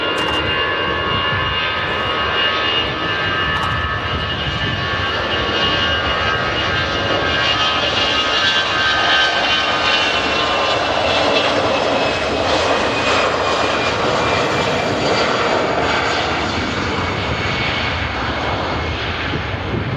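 A jet airliner departs with a loud, sustained engine roar and high whining tones that hold steady throughout.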